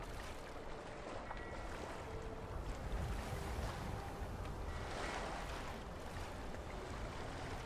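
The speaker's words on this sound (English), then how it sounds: "It's amazing how I can swim in my armour with a shield on my back." Water swishing and lapping as an armoured character swims in Skyrim, a steady wash of splashing and surf-like noise throughout with no speech.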